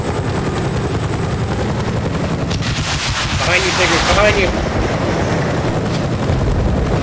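Helicopter in a video game, its steady rotor thrum droning loudly throughout and swelling as it draws nearer, with people shouting over it.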